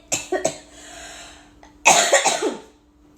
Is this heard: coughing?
yes